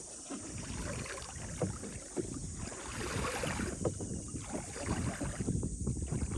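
Small wooden rowing boat moving on a creek, soft water lapping and splashing against the hull under light wind noise, fairly quiet and close, no talking.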